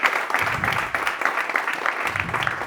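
Audience clapping fills a live stage show in Mulhouse, steady and dense for a few seconds, with some crowd noise and voices mixed underneath.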